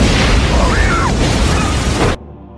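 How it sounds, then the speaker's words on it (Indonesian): A truck blows up in an Indonesian film scene, a loud, dense broadband blast with rumbling debris and a brief whistling sweep, sustained for about two seconds before cutting abruptly to near silence. "Tiba-tiba saat itu truk Chris meledak"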